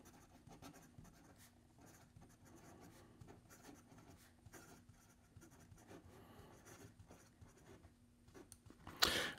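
A pocket-size fountain pen with an ebonite body and a medium-fine nib scratches steadily across paper, quiet and close, with a short louder scrape right at the end.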